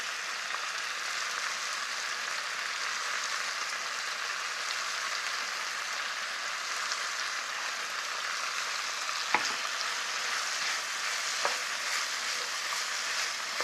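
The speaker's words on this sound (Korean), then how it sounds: "이걸 오랫동안 볶으래요. 그래야 맛있대요." Chili powder stir-frying in oil for yukgaejang makes a steady, dense crackling sizzle, close and continuous, with a couple of sharp clicks of a utensil against the pan.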